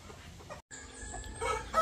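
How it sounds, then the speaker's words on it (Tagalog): Brazilian Plucker chickens at a backyard poultry farm give short clucks and squawks, with a brief gap, then a busier burst of calls near the end, moderately close and without talk. "ito yung ating mga alagang manok."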